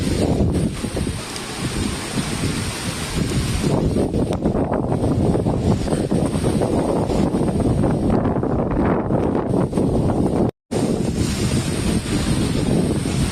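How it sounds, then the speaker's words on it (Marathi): Strong, cold wind roars steadily into the microphone with broadband buffeting and rustling amid driving rain at Phonda Ghat in the Konkan, a brief dropout near the end, heavy weather throughout. "आणि वारा तर बर्फाचा वारा आहे, जबरदस्त."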